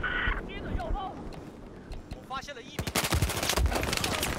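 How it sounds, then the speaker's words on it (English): Gunfire in the video game Battlefield 4 during a Capture The Flag match on the Propaganda map, with distant shots and voices early, then a loud rapid burst of automatic fire in the final seconds. "Oh, who's shooting at me?"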